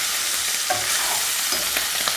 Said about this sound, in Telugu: ఒక 2 నుంచి 3 నిమిషాలు ఈ విధంగా బాగా ఫ్రై చేసుకొని